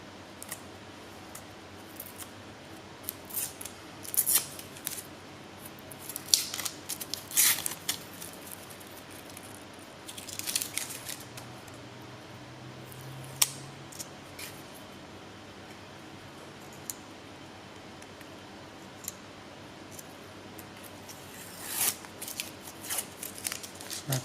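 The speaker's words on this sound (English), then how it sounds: "At this stage I can pull the inside paper off." Protective paper is peeled off a hot, still-sticky acrylic plastic sheet after heating for bending, giving faint crackling and tearing rustles in intermittent bursts over a quiet workshop background.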